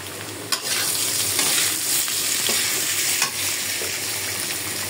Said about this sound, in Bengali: আর এইদিকে আলুগুলো একটু ভেজে নিচ্ছি।